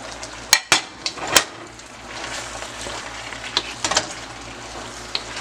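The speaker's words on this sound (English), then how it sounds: "And now I'm going to add my meat back to that." Beef added back into a hot pan with peppers for Chinese-style pepper steak sizzles steadily, broken by a few sharp metallic clanks of the spatula against the pan, loud and close with no talking.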